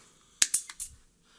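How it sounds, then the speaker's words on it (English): A guitar string's ball-end barrel is snipped off with cutters while restringing a Floyd Rose tremolo, giving a few sharp, close clicks in quick succession over quiet, with no talk. "Cut the barrel off."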